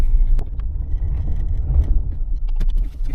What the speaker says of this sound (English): So we just want to drive in circles as best you can.